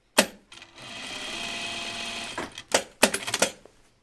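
A sewing machine runs a steady line of top stitching along an anorak's shoulder, a continuous whirring stretch of about two seconds followed by short stop-start bursts and clicks of the mechanism, close and alone.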